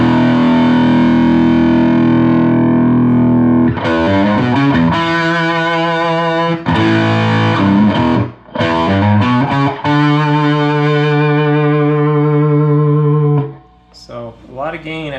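Electric guitar played through an Analogman-modded Maxon SD-9 Sonic Distortion pedal into an amp with reverb low and treble tamed, heard as loud, sustained distorted chords and riffs with brief gaps, ringing alone throughout.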